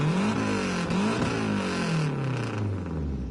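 A racing car engine in Gran Turismo 7 roars loudly and continuously, revving up and shifting through gears with rising and falling pitch, with a synthetic, game-like quality and no talk.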